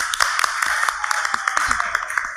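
A live audience at NerdCon claps for the scorekeeper, a scattered round of close, uneven hand claps lasting a couple of seconds.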